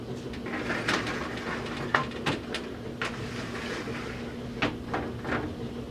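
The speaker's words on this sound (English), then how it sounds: "these plexiglass doors that slide back and forth on both sides" Acrylic plexiglass doors slide back and forth on a 3D printer enclosure, making a few short scraping knocks over a steady background hum, with no voices.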